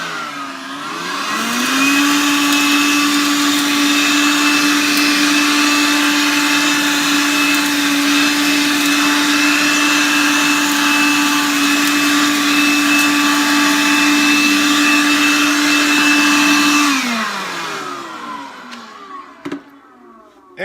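An Azollin 20V cordless compact blower vacuum sucks up wood shavings: the motor spins up to a steady, loud whine with a constant tone, holds it for about fifteen seconds, then winds down, with a few faint knocks after it stops.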